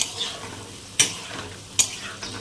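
Mustard paste for a drumstick curry is stirred in a frying pan, with a soft low sizzle and two sharp metallic scrapes of a utensil against the pan, close and clear.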